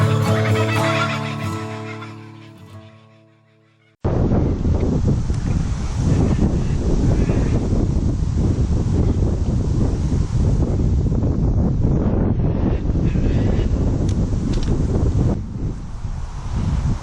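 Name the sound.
strong wind blowing at a carp fishing spot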